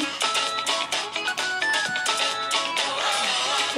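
A phone ringtone plays as a loud, continuous melodic pattern of repeated electronic notes, steady for several seconds with no talk over it.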